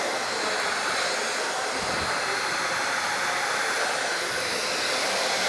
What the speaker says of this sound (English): I put my dryer on low and just make sure there aren't any damp spots in your hair